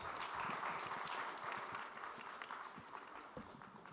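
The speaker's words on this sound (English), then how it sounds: "Can I have a round of applause for all the panelists" A conference audience applauds the panelists at the close of a session, a soft, steady patter of many hands clapping in a hall, fairly faint and fading slightly toward the end.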